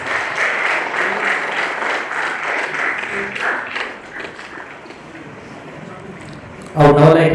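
Dense applause from an audience at a university signing ceremony rolls steadily, then fades and thins out before a sudden close thump and knock near the end.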